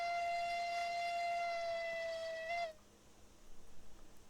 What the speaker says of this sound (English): Pretty sure that's a newer whistle sound.